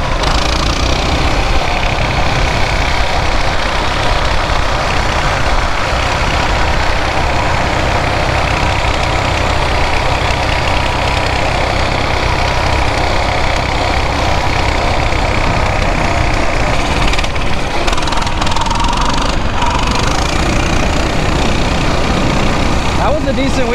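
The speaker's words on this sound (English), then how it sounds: "That was a decent wheelie for a 25 mile an hour mini bike." A Coleman BT200X mini bike engine drones steadily and loudly throughout a wheelie, a constant close buzzing roar with little change in level.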